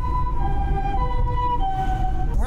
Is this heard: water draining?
no